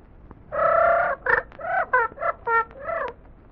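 A duck gives a run of honking, squawking calls, a long nasal cry followed by several shorter bursts, close and clear with no talk over it.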